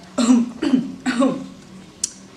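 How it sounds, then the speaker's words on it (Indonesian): Three rough, voiced throat clearings in quick succession, close and loud, followed by a short sharp click. "biasanya aku akan berdehem-dehem sebentar"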